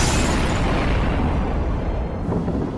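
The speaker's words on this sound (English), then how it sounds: "Tronald, you hear a gigantic explosion from inside of the shop as if lightning had just struck." A gigantic explosion like a lightning strike erupts inside a shop, a dense, loud, continuous roar with heavy low-end rumble that holds for nearly three seconds and only slightly thins toward the end.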